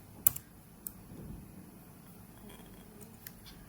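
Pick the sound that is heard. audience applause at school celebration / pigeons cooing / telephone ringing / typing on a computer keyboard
typing on a computer keyboard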